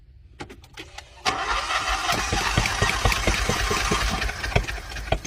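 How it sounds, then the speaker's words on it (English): An engine with spark plugs removed cranks during a compression test on cylinder 2 and almost catches. A sharp starter engagement leads into a loud, steady chugging crank with uneven pulsing knocks, close by and without voices. "That nearly runs on that cylinder."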